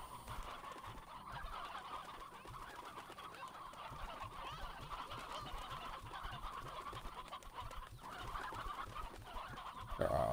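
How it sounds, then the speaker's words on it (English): A flock of many chickens in the video game Slime Rancher, a continuous dense chorus of rapid clucking and gobbling-like calls that stays steady and moderately loud throughout. "There are a lot of chickens in there"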